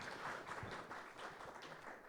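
An audience at a forum marking the 40th anniversary of environmental rights gives a round of applause, heard as a faint, continuous patter of many hands clapping at a distance.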